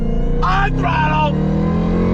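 A modified Jeep Trackhawk SUV engine pulling hard on throttle through a turn, a loud continuous droning roar that rises in pitch, with someone talking over it.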